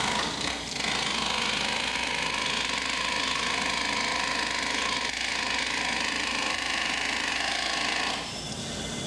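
Steady motor whirring as it drives a sprocket through a universal joint set at no angle, a constant even hum that holds level pitch for about eight seconds, then cuts off near the end.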